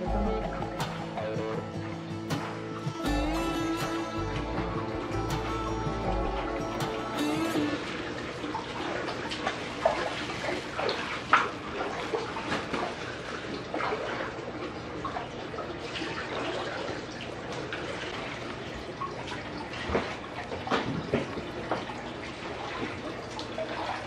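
Water rushes and splashes steadily through a koi fish pen during flushing, a dense continuous wash with irregular sharper splashes, close and fairly loud throughout.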